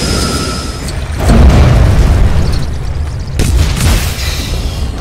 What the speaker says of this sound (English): Another fiery explosion